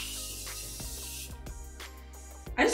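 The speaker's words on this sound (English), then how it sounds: "let me just quickly spray my face." Face mist sprays in a short hissing burst at the start, close and fairly faint, followed by quieter background sounds outdoors on a hot beach day.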